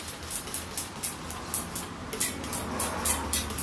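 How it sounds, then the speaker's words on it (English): Lubricant is sprayed onto a Ford F250 7.3 truck tire during a tire replacement, heard as a rapid series of short, faint hissing puffs over low background noise. "Get some spray on the tire here."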